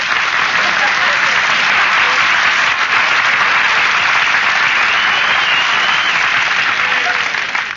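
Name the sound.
radio studio audience applause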